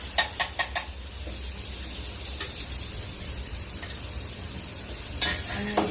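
Finely chopped onion sizzles steadily in a ghee tempering with bay leaf and asafoetida, after a few quick clinks of a utensil against the pan at the start, with occasional stirring scrapes.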